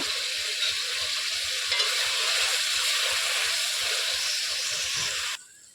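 A mustard pointed gourd curry bubbling in a pan gives off a steady close hiss and sizzle with faint bubbling, then drops away abruptly near the end.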